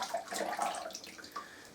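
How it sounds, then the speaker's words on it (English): Shop-bought oranges and lemons rinsed under running water to wash off detergent before making marmalade, a close continuous splashing and trickling with small shifting splashes. "So just wash them in some soapy water, give them a rinse just to get the soap, get the detergent off"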